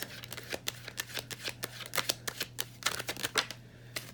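Tarot cards being shuffled and drawn, a close series of quick crisp card slaps and flicks in an uneven rhythm over a faint steady hum, with no talking.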